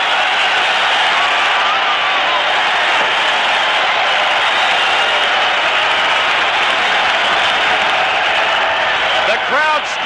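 Baseball stadium crowd at RFK Stadium in Washington roaring and applauding for Howard to return for a curtain call, a dense, loud, sustained wall of cheering from thousands throughout.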